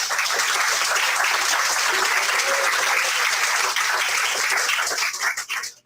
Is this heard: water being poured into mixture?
no